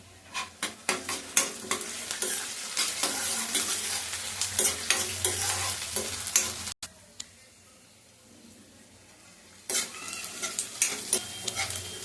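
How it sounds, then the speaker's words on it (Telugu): Curry leaves sizzle and crackle in hot oil in a pan while a spoon stirs and scrapes, a brief quiet gap interrupting the frying before it resumes. "ఇవి వేగుతూ ఉండగా కరివేపాకు వేసుకుందాం"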